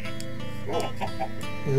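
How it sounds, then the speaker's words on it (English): Several chickens in Minecraft cluck in short, choppy bursts close by, with a faint voice murmuring underneath. "We got a bunch of chickens."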